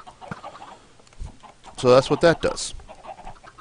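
Chickens cluck in a video-game automated chicken farm, a short burst of several clucks in the middle, with a person speaking quietly before and after.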